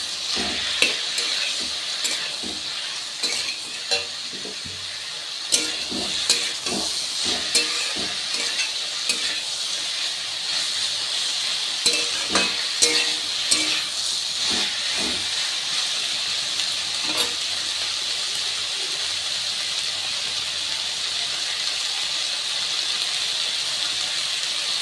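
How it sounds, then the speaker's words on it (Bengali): Potatoes and peas fry with turmeric in a pan, a steady close sizzle and hiss running throughout while a utensil scrapes and stirs in repeated irregular strokes, with no voices. "হলুদ দেওয়ার পর এটা আবার নাড়াবো"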